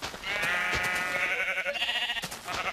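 A sheep bleats in the Minecraft video game, a loud, close, wavering call lasting a couple of seconds.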